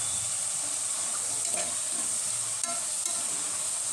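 Tomatoes go into a pan of oil where fresh green peas, brinjal and onion are frying, giving a steady, close sizzle with faint stirring and no talk.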